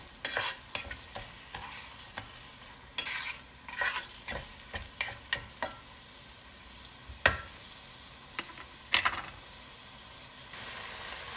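Onions and meat frying in a pan for Moroccan berkoukes, stirred with a utensil: a soft sizzle runs throughout, broken by repeated sharp scraping and clattering strokes, some louder near the end.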